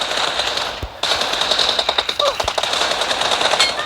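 Rapid bursts of M4 rifle fire in a video game, loud and close, with a short pause near the start before the shots roll on in a fast, steady rhythm.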